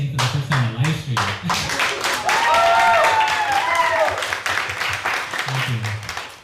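Audience applause at a kirtan music festival, a dense crowd of clapping hands sustained for several seconds, with cheering voices and whoops rising through the middle.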